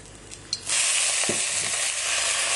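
Caramelised onions hitting a hot pan as a tablespoon of red wine vinegar goes in, a sudden loud sizzle that holds steady and close, with a faint stirring scrape near the start and no talking.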